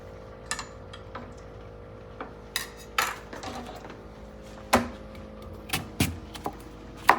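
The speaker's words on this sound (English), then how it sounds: "So let me cut up my turnip." A turnip being cut up on a board with a knife for brown stew, giving irregular sharp taps and thuds spaced through the passage, close and fairly crisp, over a quiet background with no talk.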